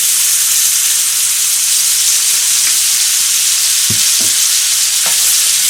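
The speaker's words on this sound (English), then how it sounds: "We will add some butter, more of it, and a little oil." Butter and oil sizzling loudly in a pan alongside pan-fried pork tenderloin, a dense continuous hiss up close with a few soft knocks near the end.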